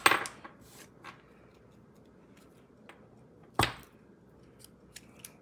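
Snips cut through card stock, a sharp metallic snap near the start and another midway, with faint scattered clicks of paper and handling in between, close and otherwise quiet.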